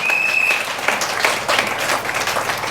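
A church congregation claps and cheers for the Lord at a Sunday service, a steady, dense wash of applause that continues throughout without a break.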